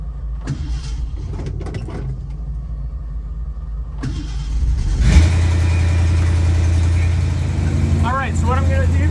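A classic Ford Mustang engine cranks with a hard, uneven start, catches and settles into a loud, rough running roar, with some faint knocks and a voice before it fires.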